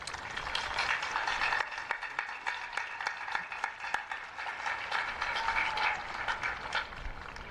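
A graduation audience at Northport High School's 2025 ceremony applauds in a dense, steady wash of many hands clapping, sustained and fairly loud, with a few sharper individual claps standing out.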